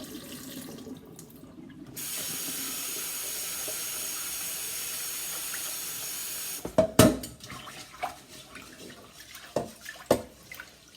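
Rice rinsed in a pot under a running kitchen tap: a steady gush of faucet water fills the pot, then cuts off, followed by close sloshing, swishing and clinks as the grains are stirred and the water is poured.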